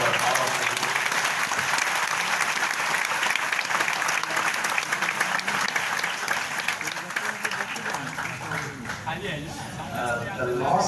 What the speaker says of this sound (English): Can we give a huge round of applause for all of you?